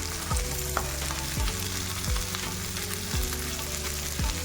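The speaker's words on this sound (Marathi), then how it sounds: "शेंगदाणे छान भाजून ठेवलं आपण" Peanuts dry-roasting in a pan for kharda chutney, giving a constant frying hiss with a spoon sweeping through them in regular scrapes about once a second, close by and without speech.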